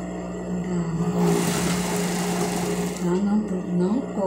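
Sewing machine stitching the side seams of a post-surgical pet suit (macacão), running in a steady continuous whir with a close, loud motor drone that pauses briefly partway through.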